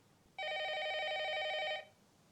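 A telephone rings in a single continuous burst of about a second and a half, bright and bell-like against a quiet room, in a film scene.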